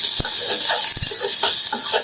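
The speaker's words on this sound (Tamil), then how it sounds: "சின்ன வெங்காயம் நல்லா லைட்டா வதங்கட்டும்" Small onions sauté in a hot pan with a steady, close, loud sizzle, broken by a few sharp scraping taps of a stirring spoon against the pan.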